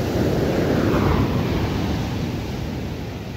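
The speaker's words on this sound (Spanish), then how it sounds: "las olas también aquí son bastante violentas" Violent ocean waves crash and surge at Acapulco beach, a loud continuous roar of surf close by that fades slightly toward the end, with no voices.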